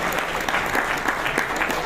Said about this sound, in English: I think we can definitely appreciate and clap for all the speakers throughout the day.